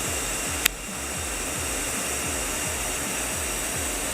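Welding on custom tie rod ends for a drift car build gives a steady, close, rushing hiss that holds unbroken throughout, with one sharp pop near the start and no voices.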